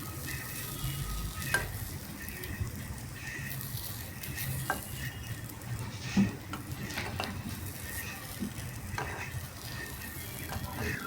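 Green chickpea cutlets pan-frying on both sides, giving a continuous close sizzle throughout with occasional light scrapes and taps of a spatula against the pan.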